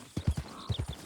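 Morgan horse hooves clip-clop in Red Dead Redemption 2, two quick sets of three crisp steps separated by a short pause, close and clear with no talk.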